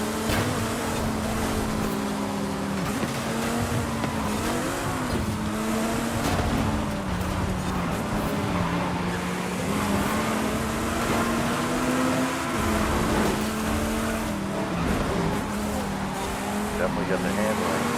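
A race car engine in Forza Horizon 5 drones and climbs steadily, its tone rising and falling through gear changes and throttle shifts, close and continuous for the whole stretch.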